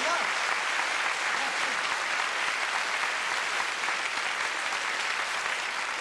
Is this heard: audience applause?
yes